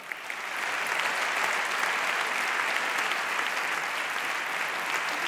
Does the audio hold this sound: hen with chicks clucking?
no